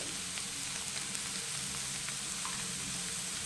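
Ground chili and coriander spices fry in a pan with a steady close sizzle, while faint scrapes of stirring run underneath throughout.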